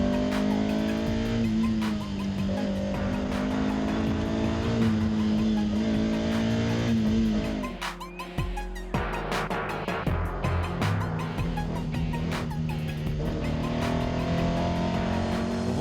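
Small rear-engined Alpine rally cars race through the Tour Auto 2007, engines revving hard and rising through gears, with a brief lull before more cars scream past at close range.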